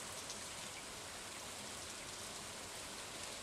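Steady, even rainfall summoned by a rain totem in the farming game Stardew Valley, a soft continuous hiss with no breaks and no voices.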